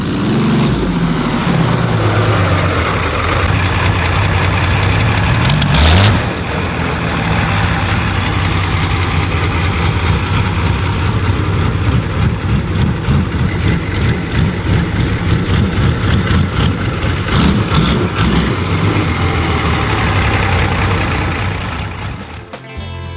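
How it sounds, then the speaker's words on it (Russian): A Volvo BM-470 tractor's 1000-horsepower, 38.8-litre V12 diesel engine rumbles loudly and steadily throughout, a deep throbbing drone with brief rattles and bursts of louder revving. "шведский трактор Volvo BM-470 с 1000-сильным V12 двигателем объемом"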